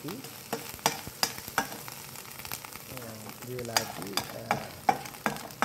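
Ginger garlic spice paste is stirred in a hot pan, with sharp, repeated spatula scrapes and clicks over a steady sizzle, and a brief hum of voice partway through.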